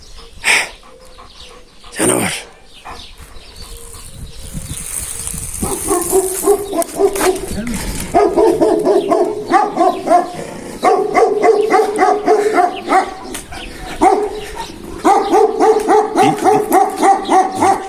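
A female dog barks repeatedly in bursts, close and loud, with a few yips between barks and some brief sounds at the start.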